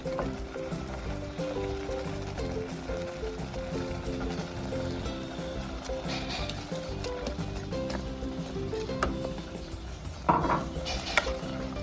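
Pork going into a pan of glass noodles for a Thai glass noodle salad, with steady clinking and scraping of utensils against the pan over a low, continuous sizzle and a brief louder clatter near the end.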